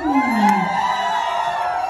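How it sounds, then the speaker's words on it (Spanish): Party crowd at a quinceañera shouting and whooping, a loud rising yell over steady crowd noise and music-like tones, continuous and close. "escucho un grito bien chingón"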